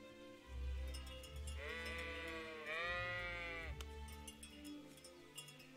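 Two long, wavering sheep bleats from a medieval-set video game sound one after another, fairly close, over a low continuous background hum.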